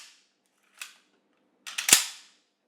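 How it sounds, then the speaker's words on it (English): An AG42 Ljungman rifle's bolt released to shoot forward gives a short, faint click, then a loud, sharp metallic clack with a brief ringing tail about a second later, close by and alone. "If you pull it back, shoots the bolt forward."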